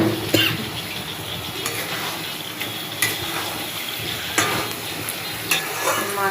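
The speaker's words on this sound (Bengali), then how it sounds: "রান্না হচ্ছে, এটা হচ্ছে আম সর্ষে দিয়ে মাছ।" Fish simmering with mango and mustard in a pan, a moderate sizzle and bubbling with periodic scrapes and taps of a utensil stirring against the metal, close and without speech.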